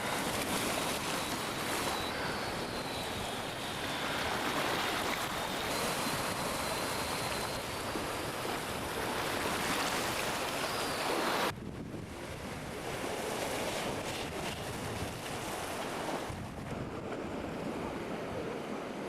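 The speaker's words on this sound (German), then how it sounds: "ist jetzt das offene Meer." Steady roar of open-sea surf off Enoshima, Japan, with wind buffeting the microphone, continuous and fairly loud, briefly dropping in level partway through before rising again.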